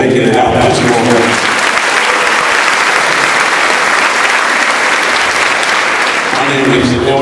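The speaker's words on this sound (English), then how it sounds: "I want you to give yourself a round of applause for making it out this morning." Parents and students at a Locke High School morning gathering applaud loudly and continuously as a large crowd, with a speaker's voice audible at the start and end of the clapping.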